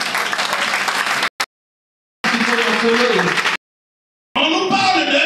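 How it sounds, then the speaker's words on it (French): A church congregation applauding for the Lord, loud dense clapping that comes in separate bursts broken by sudden silent gaps. "Est-ce qu'on peut acclamer pour le Seigneur?"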